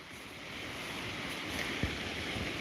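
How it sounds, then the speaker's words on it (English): Water from a waterfall pours through the breached side of an 1850s dam, making a steady, dense roar that fills the whole stretch without pause or talk. "That's a beautiful waterfall"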